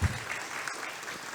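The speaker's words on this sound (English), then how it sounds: "Please give an applause to make it work." Audience applause fills a conference talk, with steady clapping throughout the short moment and no talking over it.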